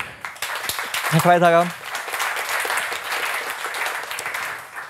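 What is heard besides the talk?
audience applause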